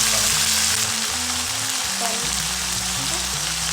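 Tempe and tumis ingredients fry and sizzle steadily in a hot pan, a loud continuous crackle with low stirring and scraping thumps running through it, no voices.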